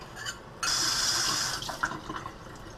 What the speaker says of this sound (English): And when you're rinsing them off, you want to use cold water